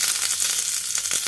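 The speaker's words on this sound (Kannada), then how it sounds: "ನಂತರ ಈಗ ನಾನು ಅದಕ್ಕೇ 1-2 ಕರಿಬೇವು ಹಾಕ್ಕೋತಾ ಇದ್ದೀನಿ." Curry leaves sizzle and crackle in hot oil, tempering for a tomato chutney: a steady, close frying hiss that runs unbroken, with a few sharper pops near the end and no talk.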